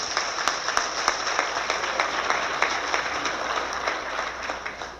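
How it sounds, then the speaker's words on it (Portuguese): Sustained applause from a political audience at the Agrishow agricultural fair, honoring state legislative assembly members, steady dense clapping throughout with a few sharper claps standing out. "Então, uma salva de palmas para os nossos parlamentares da Assembleia Legislativa."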